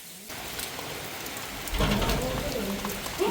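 Steady rain falls with a dense, even hiss that starts suddenly and swells louder partway through, then holds as a constant close patter.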